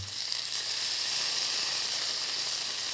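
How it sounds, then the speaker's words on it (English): Ranch steak searing in a hot pan, a loud, steady, close-up sizzle with a bright hiss running unbroken throughout. "ranch steak. Going right into the pan."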